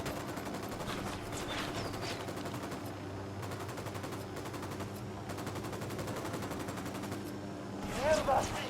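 Sustained gunfire from Ghost Recon Wildlands, dense rapid bursts of automatic weapons rattling steadily throughout at moderate distance, with a brief louder flurry near the end.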